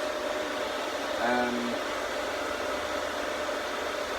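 A hairdryer blows a steady, even whoosh of air to dry glue on moulded model muscle arms, continuous and fairly quiet from start to finish.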